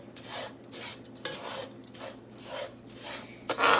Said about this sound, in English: make sure your pot is nice and hot, and you want to add your sugar. And stir it around